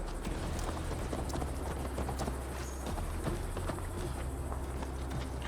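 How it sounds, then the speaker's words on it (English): Horse hooves clip-clopping at a steady walking rhythm during a ride in the video game Assassin's Creed Valhalla, heard close and continuous over a constant background of game ambience. "Mount up, Eivor. It's a long ride to Tamworth"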